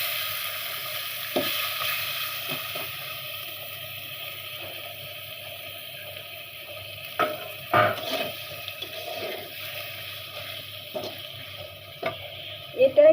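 Pointed gourd greens cooking in pangas fish oil crackle with a steady low sizzle, while occasional spatula scrapes and clinks come through a hiss of running water nearby. There is no talking.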